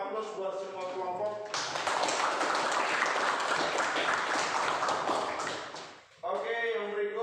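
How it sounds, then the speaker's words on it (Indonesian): A class of students claps for all the groups, a burst of dense, close applause lasting several seconds before it tapers off. A voice speaks just before and just after. "berikan dulu aplaus buat semua kelompok"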